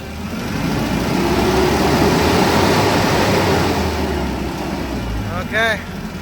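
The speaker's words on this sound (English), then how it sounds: "now let's try to rev it up on a snap" A Komatsu forklift engine suffering no power under load, revved up: a loud steady engine roar that holds and then eases off, heard close with a brief squeak near the end.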